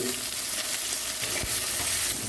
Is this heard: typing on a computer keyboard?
no